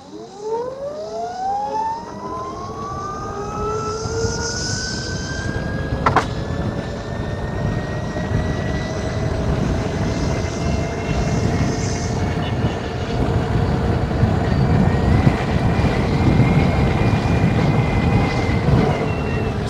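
An Ather Rizta electric scooter accelerates hard in a zero-to-hundred test, its motor whine sweeping steadily upward in pitch over rushing wind and road noise, loud and continuous for about twenty seconds.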